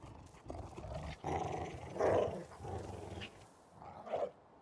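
Mean-sounding dogs snarl and growl in the fantasy video game King's Bounty 2, a series of rough, rising growls with a louder surge near the middle, no talking.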